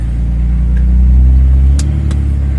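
A 2003 Dodge Ram pickup's 5.9 Cummins diesel engine drones loud and low from inside the cab, holding a steady rumble that eases slightly toward the end, with faint clicks.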